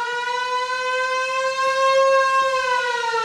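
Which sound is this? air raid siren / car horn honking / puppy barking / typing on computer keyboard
air raid siren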